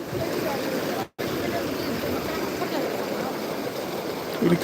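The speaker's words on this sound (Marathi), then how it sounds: "पूर्ण पाणी इतक्या जोरात आले" Floodwater after cloudburst-like rain in Nanded rushes continuously past a washed-away bridge with a loud, broad roar, broken by one brief dropout, heavy flowing noise throughout.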